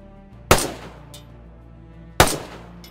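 Two sharp, loud gunshots in DayZ Standalone, spaced well apart, each a close crack followed by a short echoing decay in otherwise quiet surroundings.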